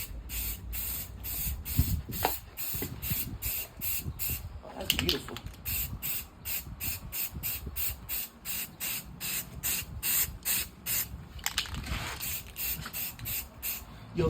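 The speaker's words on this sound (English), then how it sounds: "And you slowly spray it." Aerosol spray paint hissing in repeated bursts as a base coat goes onto an AR-15 rifle, loud and close, with brief talk in between.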